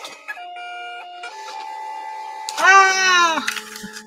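A home printer runs through a job, with steady mechanical whirring and shifting motor tones followed by a louder, rising feed sweep near the end, close and clear, with no talking over it.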